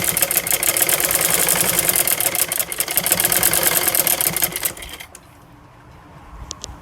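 Sewing machine running steadily as it lays a line of stitching on fabric for a palazzo pant design, a dense continuous whir that cuts off near the end, leaving a faint quiet background.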